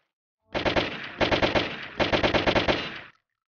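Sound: ACS WW2 guns firing in Roblox video game

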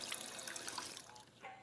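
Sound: drinking water from a sink in the video game Fallout 4

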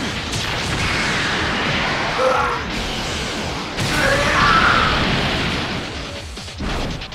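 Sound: energy beam attack in video game

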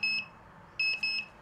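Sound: PUDIBEI NR-1050 Geiger counter dosimeter alarm beeping

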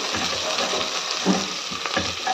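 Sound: food frying in a pan

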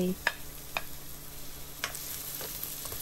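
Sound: red shallots stir-frying in hot vegetable oil

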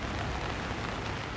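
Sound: rain at Cottesloe Beach, Australia

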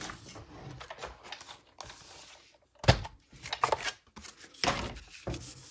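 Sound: Big Shot die-cutting machine cutting paper pieces

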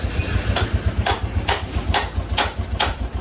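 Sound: Royal Enfield Thunderbird engine idling with abnormal ticking noise

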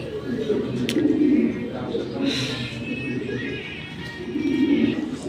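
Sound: pigeons cooing

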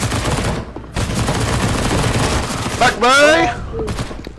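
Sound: gunfire from a video game

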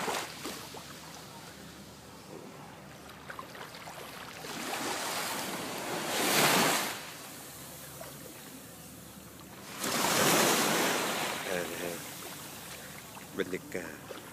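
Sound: boat arriving over sea waves at Phi Phi island

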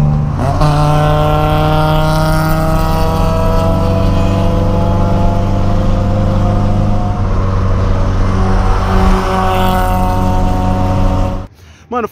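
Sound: modified VW Golf 1.8 accelerating with straight-through exhaust

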